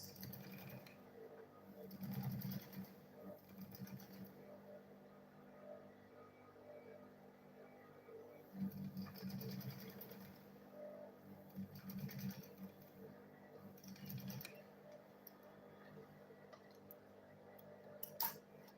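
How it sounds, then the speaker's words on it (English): A sewing machine stitches a homemade lunch bag, running faintly in a few short bursts separated by quiet pauses, with light fabric handling in between. "I'll hold the two of them together this way, and I'll go ahead and sew it."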